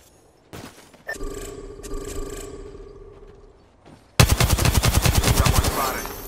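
Apex Legends gameplay audio opens with mechanical clicks and humming tones. Loud rapid automatic gunfire then breaks in and rattles on in a fast, steady burst to the end.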